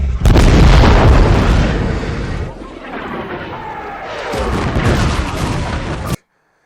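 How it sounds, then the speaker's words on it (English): Explosions in a Star Trek film: a loud opening blast rolls into sustained rumbling and crackling debris, swelling again before cutting off abruptly. "There are explosions."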